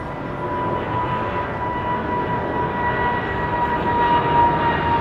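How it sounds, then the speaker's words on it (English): An aircraft at London Heathrow Airport makes a steady, muffled engine roar that holds level for several seconds and swells slightly toward the end, with no voices. "So I'm just keeping an eye on the following aircraft."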